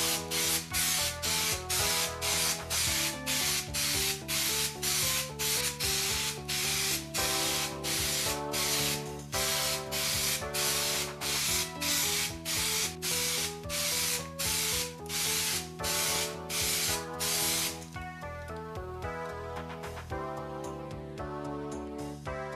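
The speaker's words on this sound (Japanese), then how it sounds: "サーフェイサーを吹くリズムにご注目ください。" An aerosol spray can sprays surfacer primer onto a model kit in short, rhythmic hissing bursts, then in longer continuous sprays, close and fairly loud throughout.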